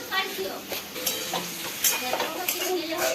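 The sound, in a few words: stirring chowmein frying in a covered pan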